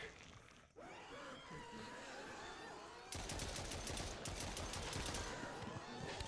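Gunfire in a first-person shooter video game: dense bursts of rapid shots, loud and close, grow heavier and near-continuous partway through, with no talk.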